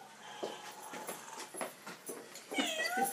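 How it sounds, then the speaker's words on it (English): A cat meows a few times nearby, with rustling and movement around it and no talking. "it's a cat."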